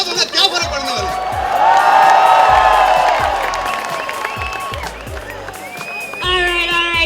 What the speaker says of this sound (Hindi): अरे तालियां बजा यार